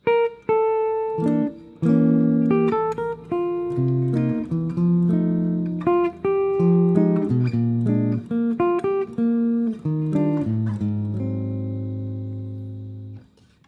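Solo jazz guitar plays a chord melody, harmonized chords moving under a melody line with a steady pulse, close and clear, ending on a ringing sustained chord.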